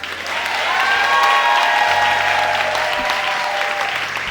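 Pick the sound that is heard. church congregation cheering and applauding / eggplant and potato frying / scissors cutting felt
church congregation cheering and applauding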